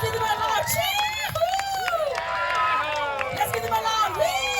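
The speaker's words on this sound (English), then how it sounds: "Let's give them a loud cheer." Dense crowd cheering and shouting for a band at a Hawaiian music event, steady and loud with overlapping voices, whoops and chatter throughout.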